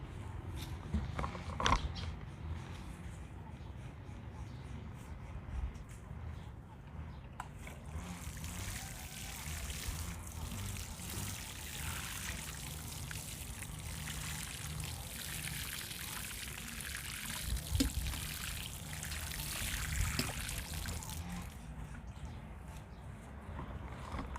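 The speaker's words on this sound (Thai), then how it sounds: "ก็ลดน้ำให้มันชุ่มๆนะ" Water poured from a container onto freshly mixed potting soil for growing vegetables, a steady soft pouring and trickling wash lasting most of the stretch, close by and moderately quiet with a few small knocks.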